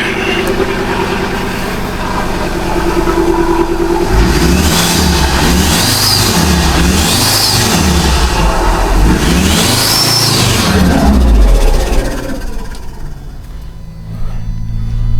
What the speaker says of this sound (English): Plenty of noise, it's dragging air in that turbo just nicely.